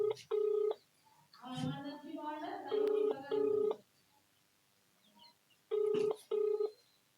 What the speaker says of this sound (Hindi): ये देखिए दोबारा फोन लगाया है और जिलाधिकारी महोदय के घंटी जा रही है